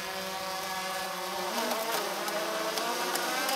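A swarm of killer hornets near their nest gives off a dense, steady buzzing drone from many insects at once, close and loud and unbroken, with no voices.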